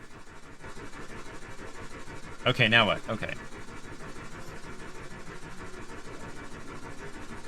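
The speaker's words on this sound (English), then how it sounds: "We've got the steam engine running." A loud steam engine runs in a video game with a steady, rhythmic chugging and a brief, louder burst partway through, while someone speaks briefly.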